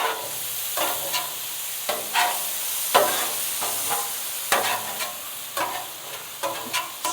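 Rice noodles and vegetables sizzle on a Blackstone griddle, a steady frying hiss broken by repeated sharp scrapes and clacks of a metal spatula stirring and tossing the food.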